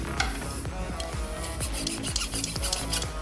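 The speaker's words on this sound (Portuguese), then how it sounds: "enquanto o senhor vai lixando aí, eu vou dando outras informações" A handmade wooden fife is sanded by hand, a steady rhythmic rasping of short strokes repeating about twice per second, close and continuous with no talk.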